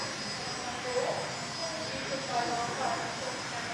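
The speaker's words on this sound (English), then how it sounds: "Here's a Qantas Alliance actually, Fokker 100 coming in." A Qantas Alliance Fokker 100 airliner coming in to land gives a distant, steady jet engine roar with a faint high whine, fairly quiet and continuous.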